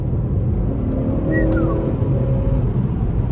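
A 2019 Honda Accord 2.0T accelerates hard after a downshift, its engine giving a close, steady, full-throttle roar that holds without a break.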